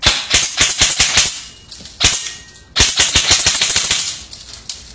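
A VFC Avalon VR16 airsoft rifle fires close and loud in sharp rapid bursts. Quick clattering shots come in several strings separated by short pauses.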